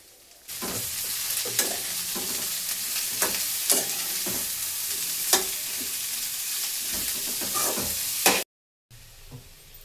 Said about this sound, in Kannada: ಸ್ವಲ್ಪ ಜೀರಿಗೆ ಮತ್ತು ಟೊಮೆಟೊ ಹಣ್ಣು ಕೂಡ ಸೇರಿಕೊಂಡು ಹುರಿತಾ ಇದ್ದೀನಿ